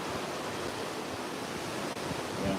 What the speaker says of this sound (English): The wind sounds like ocean waves.